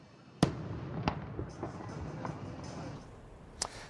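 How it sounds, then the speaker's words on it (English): Fireworks bursting during holiday celebrations, several sharp booms spread over a few seconds, some near and loud, others softer, over a low rumbling background. "Christmas, Hanukkah, and of course, fireworks"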